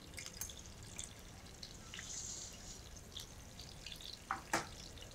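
Whole garam masala spices (cumin, bay leaf, cloves, cardamom, cinnamon) frying in hot oil for palak paneer, a quiet continuous sizzle with faint crackles and a couple of sharper pops near the end.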